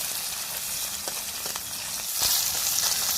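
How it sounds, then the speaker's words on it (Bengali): Seasoned pieces of fish fry in hot oil with a continuous close sizzle and scattered crackles, growing slightly louder near the end, with no talking. "বন্ধুরা দেখো আমি মাছটাকে কত সুন্দর করে লাল লাল করে ভেজে নিলাম।"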